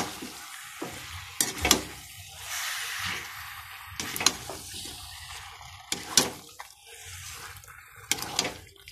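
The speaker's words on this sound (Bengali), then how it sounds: "চিকেনটা এবার খুব ভালো করে মশলার সাথে কষিয়ে নেব।" Chicken pieces fry in spices in a pan for a chicken kosha curry, a low continuous sizzle broken every couple of seconds by loud clanks of a ladle stirring and scraping the pan.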